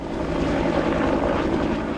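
A firefighting helicopter hovering low over a lake at sunset in southern Colorado, its engine and rotors a loud, steady, close rumbling drone with no voices.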